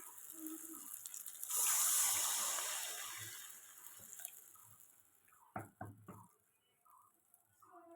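Water pours into a pan of fried masala for chital fish tel jhal, a bubbling rush of about two seconds that fades, followed by a few soft clinks of utensils.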